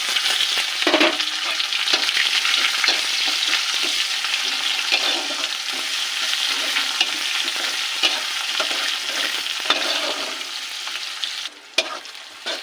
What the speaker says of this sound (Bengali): পেঁয়াজটা একটু ভেজে নিয়েছি